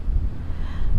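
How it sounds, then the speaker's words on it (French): Strong wind of about 29 knots buffeting the microphone aboard a sailboat in low rumbling gusts, with faint rushing water beneath, brief and continuous. "on a du vent"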